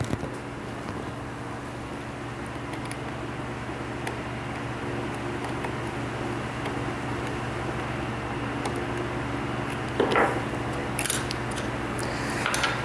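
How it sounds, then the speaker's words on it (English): Faint metallic clicks and scraping from a screwdriver removing the presser feet of a sewing machine, sparse and quiet over a steady hum of background noise, with a brief rattle near the end. "So just get your screwdriver and take your feet off real quick."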